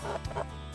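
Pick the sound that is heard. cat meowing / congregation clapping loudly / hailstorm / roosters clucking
roosters clucking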